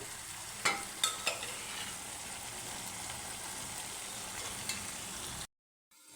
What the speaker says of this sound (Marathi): आता आपण जे चणे उकडून ठेवलेले आहेत ते टाकून घेऊ